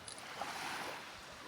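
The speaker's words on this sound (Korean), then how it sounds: "물소리 좋다" Gentle sea water at Miyakojima washes and splashes in a steady wash of noise, with a bit of wind in the background.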